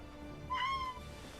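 A single short, clear meow from a domestic cat close by, rising and falling over about half a second against a quiet room.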